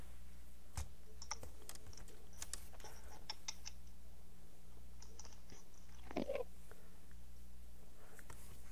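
Keys clatter on a computer keyboard in scattered, uneven bursts of soft clicks, nearby and fairly quiet, with a faint steady hum underneath while someone types a command into a Minecraft game chat.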